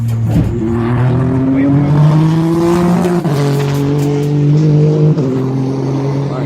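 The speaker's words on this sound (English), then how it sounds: "That's one of Roger Penske's Daytona prototype cars." Roger Penske's Daytona prototype race car roars past on the Daytona speedway, a loud engine howl with shifting pitch as it goes by, while people talk over it.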